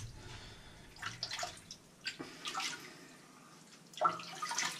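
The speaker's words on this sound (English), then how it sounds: "I'm just gonna splash it on with my hand." Water splashed by hand onto a young girl in a home bath: a few soft, irregular splashes and trickles, close by, with quiet drips in between.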